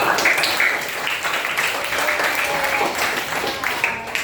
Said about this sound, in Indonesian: Kasih tepuk tangan dulu dong buat Naomi.